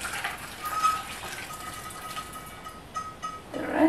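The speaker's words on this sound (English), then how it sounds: "And then I'm going to pour over the lids as well." Boiling water poured over canning jar lids for sterilizing, pouring and gushing steadily for a few seconds, a continuous close liquid splash with a faint tonal ring.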